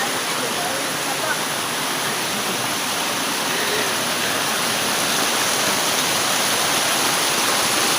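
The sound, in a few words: flowing stream near a walking trail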